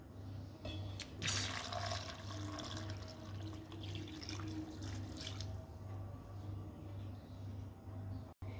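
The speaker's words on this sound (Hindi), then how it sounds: "1 गिलास आपने पानी डाल लेना है।" A glass of water is poured into a cooking pot for arvi gosht, a taro and meat curry, making a steady watery splash and fill that runs for several seconds against a low continuous hum.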